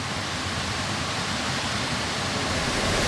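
Two small waterfalls formed where a river splits in two, heard as a dense, even, continuous rush of falling water, close and unbroken.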